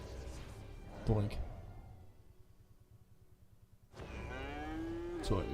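Cow mooing in the online game Albion Online, two drawn-out low moos separated by a quieter stretch, fairly close and clear with no voices.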